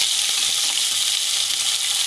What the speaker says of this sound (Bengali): আলু আমি হালকা করে ভেজে নিচ্ছি।